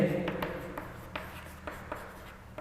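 Writing on a board during a chemistry lesson on zero-order reaction rate equations: a few soft, brief scratching strokes spaced across a couple of seconds in a quiet room, with no talking.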